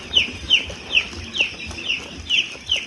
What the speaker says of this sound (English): This is the chicken run where they are going.